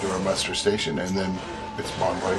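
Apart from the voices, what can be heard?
No distinct noise like a dog, phone or traffic.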